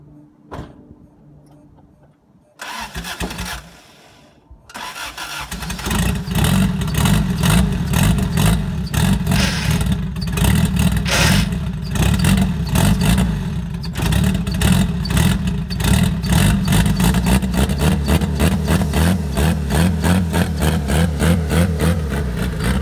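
A Honda CRX engine, running without a radiator, cranks over after a couple of brief attempts and catches, then settles into a steady, loud idle with slight revving that carries on alone to the end.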